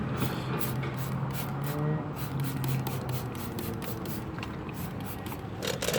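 Steady hissing spray coats a vehicle's underbody, shocks and wheel wells, running continuously for several seconds, with a low engine-like hum underneath and a brief louder burst near the end.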